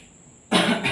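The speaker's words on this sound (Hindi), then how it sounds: "खांसी बहुत तेज हो रही है मेरे को।" A single harsh cough bursts out close to the microphone during a Hindi physics lecture, after a moment of quiet room tone, and carries on briefly, loud and rough.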